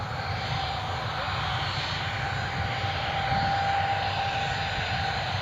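A jet airliner taking off from Newcastle Airport, a steady, fairly distant engine roar with a faint high whine held throughout the short stretch, no speech on top.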